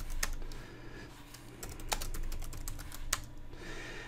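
Keys tapped on a computer keyboard while a command is entered on a Cisco switch: a few distinct, sparse clicks over a low, quiet background hum.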